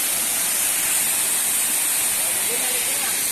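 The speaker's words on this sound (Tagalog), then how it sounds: "Nandito na tayo mismo sa paanan ng falls." Steady broadband roar of a waterfall heard from the foot of the falls, constant and loud throughout with no pauses; a voice is faintly present underneath.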